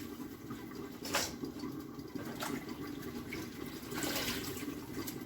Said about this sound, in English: Just rinsing them one last time real good